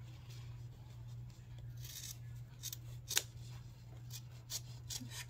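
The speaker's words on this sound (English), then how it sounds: "Just cut right along the seam. Just cut it right out." Scissors snip along the seam to cut a pocket out of stretchy jeans, a series of quiet crisp blade closes and fabric rasps at irregular intervals over a low steady hum, close up, no voices.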